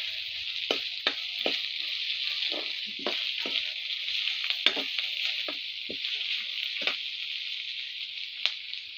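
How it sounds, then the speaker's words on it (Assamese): Chopped onions frying in hot oil for a broiler chicken curry, a steady close sizzle with several sharp spoon scrapes and clacks against the pan as they are stirred; no talking. "পিঁয়াজখিনি অকণমান ভালকৈ ভাজি লওঁ।"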